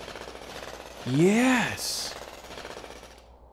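A mining drill bites into a big rock in MewnBase, giving a loud rising-and-falling mechanical whine for about half a second with a hissing burst after it, while a voice calls out over the game.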